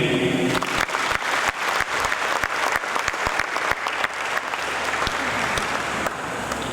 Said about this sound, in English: I would like to request another big clap to our university